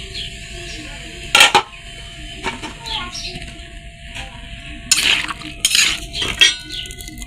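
Small pieces of freshly washed, cut pumpkin are tipped into a metal wok to steam. Two clattering bursts of pieces striking metal stand out over a quiet kitchen with faint background chirps.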